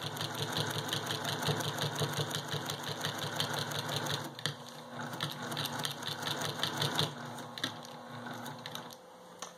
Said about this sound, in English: we're going to stitch to the pin